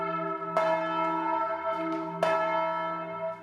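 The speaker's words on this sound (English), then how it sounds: "Even the big tenor bell could be heard." A deep tenor church bell rings with long, sustained harmonic tones, struck twice with a clear strike and lingering hum between.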